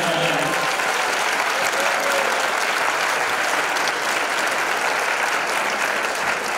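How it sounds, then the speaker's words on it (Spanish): A crowd at a tuna music competition awards ceremony in Almería claps loudly and continuously, a thick, even wash of applause with no break throughout. "Un aplauso también para él."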